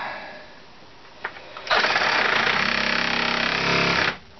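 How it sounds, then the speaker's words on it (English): A vibrating handheld power tool starts up partway through and runs steadily at a close, loud buzz for a couple of seconds before cutting off, after a couple of brief knocks. "Ah, my new power tool."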